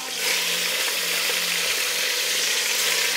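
Hot oil sizzles steadily in a cooking pot, ready for browning rabbit pieces, a continuous close hiss with no talking.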